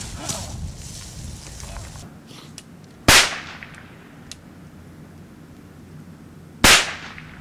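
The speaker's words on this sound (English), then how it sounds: "They're firing back at us" Two sharp, loud blank-gunfire cracks ring out about three and a half seconds apart during an outdoor film shoot, each decaying quickly over a low background murmur.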